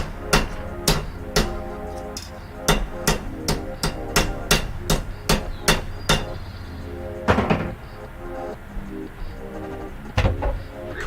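A hammer strikes a steel unicorn prop in a workshop, a series of loud, ringing metallic blows in a steady, uneven rhythm, close by, then a scrape and a few scattered knocks.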